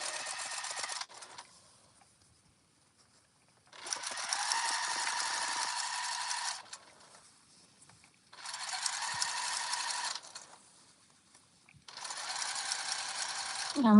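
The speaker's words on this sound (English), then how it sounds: "And we just sew along." A sewing machine stitching a reversible jumper, its motor whirring in three or four sustained bursts of a few seconds each, separated by quiet pauses, close and clear with no speech.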